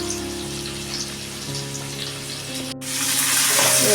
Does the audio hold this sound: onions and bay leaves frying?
yes